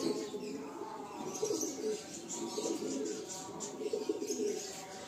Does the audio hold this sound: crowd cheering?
no